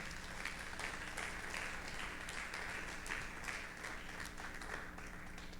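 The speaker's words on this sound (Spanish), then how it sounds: "Démosle un aplauso al Señor por esto." A church congregation at a Sunday service claps in praise, a faint, distant wash of steady applause over a low hum.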